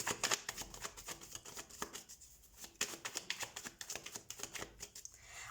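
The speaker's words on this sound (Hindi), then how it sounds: "सो हम कार्ड शफल कर लेते हैं।" Tarot cards are shuffled close by in quick, rhythmic riffles and flutters, with a soft, continuous papery patter and no talking.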